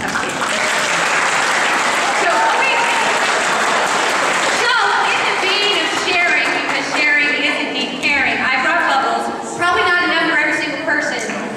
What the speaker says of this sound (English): thank you to Abby and Jackie, give them a round of applause.